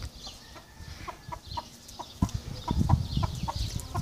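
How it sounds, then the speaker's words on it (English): A chicken clucks in short repeated bursts outdoors in Mexico, with a rooster-like call and other fowl sounds mixed in, fairly close and fairly loud with no talk. "That's the chicken we were looking for."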